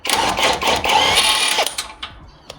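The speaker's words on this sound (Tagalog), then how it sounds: "Next natin itong nut. Size na to is 19mm. Gamit tayong pack wrench." A wrench turns a 19 mm outer tie rod nut on a 2006–2011 eighth-generation Honda Civic: a close, loud run of rapid mechanical clicking and buzzing that cuts off after about two seconds, with no speech.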